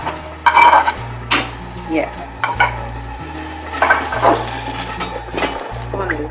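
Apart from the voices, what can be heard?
salted fish and onions frying in melted red palm oil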